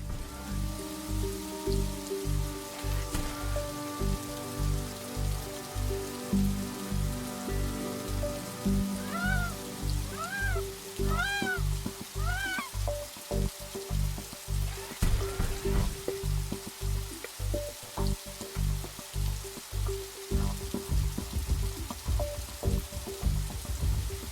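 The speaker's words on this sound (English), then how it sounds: "It's raining." Rain in The Riftbreaker on Xbox Series S falls as a steady patter of drops on surfaces, heard alone and close, with a rhythmic game music beat and a few brief synthetic chirps mixed in.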